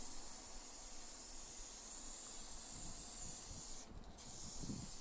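A spray gun laying a thick coat of crackle finish on a guitar body gives a steady, loud, close hiss with no pauses and no voices.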